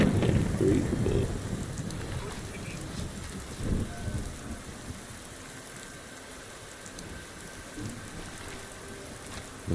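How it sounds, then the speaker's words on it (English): Steady rainfall with thunder rumbling in the Fallout 4 game world, a heavier burst of rain and thunder early on, then a continuous wash of rain; no voices. "How wonderful it would be to get out of the rain."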